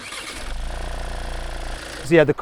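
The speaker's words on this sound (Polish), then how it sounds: "Odpalę Skodę i odpalę Rollsa." Car engines start up, a Skoda with a two-litre four-cylinder turbo diesel and a Rolls-Royce. A low, pulsing cranking rumble runs for about a second before a louder, brief surge at the end.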